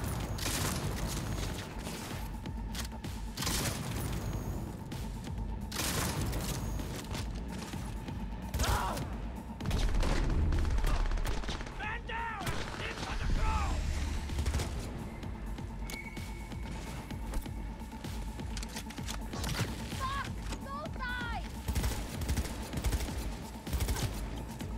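Heavy gunfight in Cyberpunk 2077, with repeated loud bursts of automatic gunfire, impacts and crashes over a steady background drone, continuing in waves throughout.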